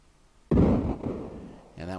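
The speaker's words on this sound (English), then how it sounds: "we'll go ahead and use a flame spell on them" A flame spell strikes ice wyverns in the Betrayal at Krondor game, giving a sudden loud burst that rumbles and fades over about a second before a voice cuts in.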